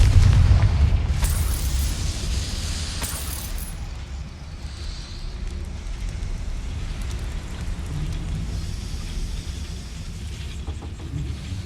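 In the Hogwarts Legacy video game, a Confringo spell explosion opens with a deep boom and sharp crackling bursts, then fades into a low rumbling ambience.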